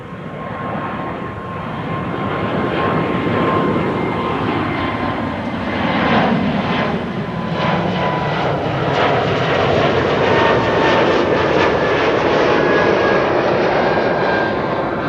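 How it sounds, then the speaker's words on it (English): A KLM Embraer 195 E2 jet departs Amsterdam Schiphol, its engines building into a loud, continuous roar with a faint whine, swelling steadily as the jet passes nearby. "And this is KLM Flight 902, an E2 Embraer 195, going to Inverness in Scotland."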